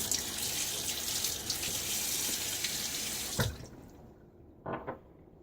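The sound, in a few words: rinsing razor under running tap water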